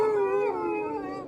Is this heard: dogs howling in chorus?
yes